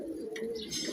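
Male pigeons cooing inside a rooftop loft, a low steady rumbling coo that continues for the whole second with a brief brighter flutter or call near the middle, close and moderately loud, no talk.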